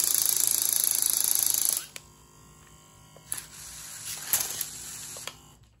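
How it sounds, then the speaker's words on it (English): A Vex IQ robot catapult for the Rapid Relay game: a loud steady mechanical whir for almost two seconds, then a quieter stretch with a few sharp ratchet clicks and snaps as it releases and rewinds. "once this ratchet is released, that's when the entire catapult releases"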